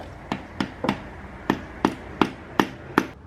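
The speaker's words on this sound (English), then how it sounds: "I'm gonna go ahead and tap it just lightly so that it fully seats on the bottom" A 10mm socket lightly taps a valve stem seal down into place on a 240 engine, about eight sharp, even metallic taps spaced roughly a third of a second apart, close and clear.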